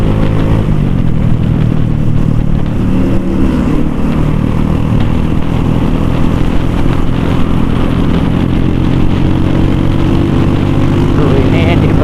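A Honda Supra motorcycle engine, bored up to 54 mm and running on RON 89 fuel, drones loudly and steadily close by, its pitch rising and falling as the throttle is worked.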